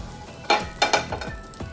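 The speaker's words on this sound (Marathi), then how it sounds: "त्यासाठी पॅन गरम करायचा आहे, टाकायची मिरची" Green chillies sizzle sharply in a hot pan for Maharashtrian thecha, with a few loud spitting bursts and scraping stirs, close up and with no talking.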